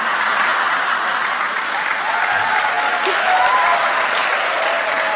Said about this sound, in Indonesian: Nggak usah tepuk tangan.